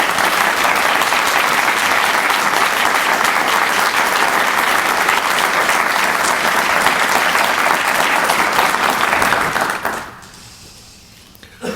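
Sustained audience applause in a hall welcoming Consul General Javier Rupérez at a Kennedy Center award event, loud steady clapping from a large crowd that fades out near the end.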